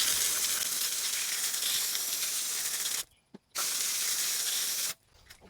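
Pressurized water sprayed from a nozzle onto a foamed car wheel being rinsed after wheel cleaner, a loud continuous hiss in two long bursts separated by a brief stop, close to the microphone.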